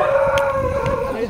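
Dog howling outdoors during a city cycling outing in Bengaluru, a sustained wavering howl close by with faint background noise.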